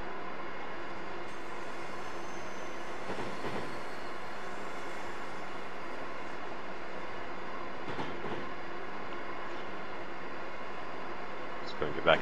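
Acela Express train running in Train Simulator 2015, a continuous rolling rumble with faint rail clatter and a few brief swells, steady and moderately loud with no pauses.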